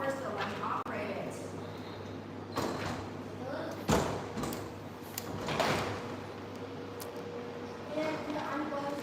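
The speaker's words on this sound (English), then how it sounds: "This is a thermal break aluminum folding door." A thermal break aluminum folding door being operated in a showroom, with a series of sliding rumbles and hard thuds as the panels fold, under ongoing talk.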